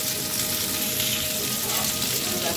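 Shinane mussels frying in a pan until crispy, a steady dense sizzle and crackle of hot oil that holds evenly throughout, close and moderately loud with no voices.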